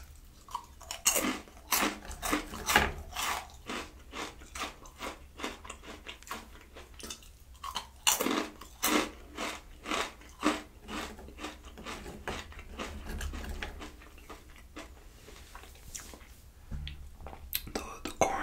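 Crunchy Turbos Flamas corn chips are chewed right at the microphone, with a long run of crisp, rhythmic crunches, brief pauses between bites and faint whispering now and then.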